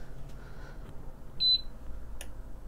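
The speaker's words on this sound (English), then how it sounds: "It beeps and then clicks" An electric pressure cooker gives a single short high beep after its timer is set, faint in a quiet kitchen.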